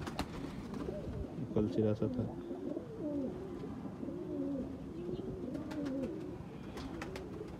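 Rampuri pigeons coo repeatedly in soft, rolling phrases close by, while someone talks over them at moderate volume.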